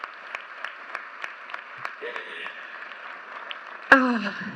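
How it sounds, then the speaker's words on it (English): Scattered claps from a commencement audience, spaced and fairly soft rather than a full ovation, with a voice breaking in loudly near the end. "we can clap for that"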